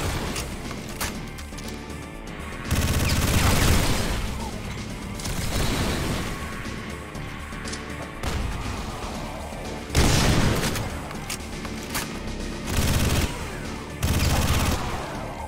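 Video game gunfire in a Doom 2 mod, loud bursts of rapid shooting and booming blasts arriving in several separate volleys between quieter stretches of steady game noise.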